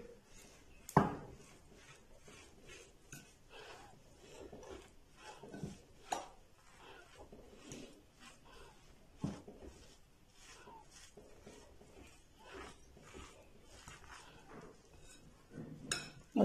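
A spoon stirring a spiced pumpkin kabab mixture in a bowl, scattered clinks and scrapes against the dish at an irregular pace, with a few sharper knocks standing out over soft rustling.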